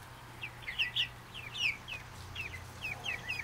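Young New Hampshire Red and Jersey Giant chicks peep and cluck softly in quick, repeated high chirps, fairly close but faint over a low steady background hum.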